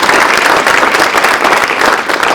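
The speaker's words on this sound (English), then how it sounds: "Please join me in a round of applause." Dense, steady audience applause fills a room at an economic outlook forum, loud and close with no gaps, a wash of many hands clapping together throughout.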